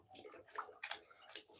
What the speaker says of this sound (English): I always wring my sponges out in tank water